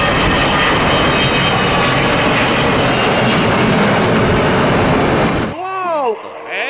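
A loud, steady jet-engine roar from a toy Garuda airplane holds for several seconds and then cuts off abruptly. Fainter clicking and whirring sounds follow it.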